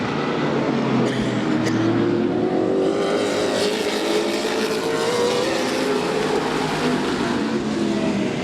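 Race cars roar around an oval track in a loud continuous drone, engines rising slowly in pitch as the pack runs single file through a turn.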